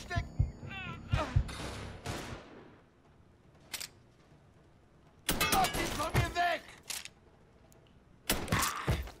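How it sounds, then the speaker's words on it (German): Gunfire from a Mafia 3 shootout, sharp bursts of several shots clustered near the start, around the middle and at the end, with quieter gaps and some voices between them. "Wer schießt denn da?"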